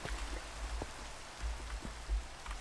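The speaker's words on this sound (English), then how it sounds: "The rain's bothering me." Minecraft rain makes a soft, even hiss of falling drops with slight low patters, steady and fairly faint throughout, with no voices.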